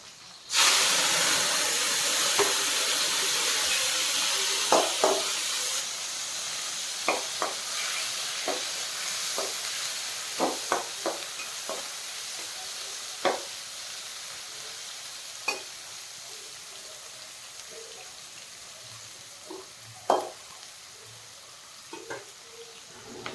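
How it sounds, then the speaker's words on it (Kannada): Onion and tomato fry in hot oil with a steady close sizzling hiss that fades slightly, punctuated by scattered sharp clicks and scrapes of stirring. "ಈರುಳ್ಳಿ ಟೊಮೆಟೊ ಎಲ್ಲ ಇಟ್ಕೊಂಡಿದ್ರಲ್ಲ, ಸೊ ಅದನ್ನ ಎಣ್ಣೆಯಲ್ಲಿ ಫ್ರೈ ಮಾಡ್ಕೊತವ್ರೆ"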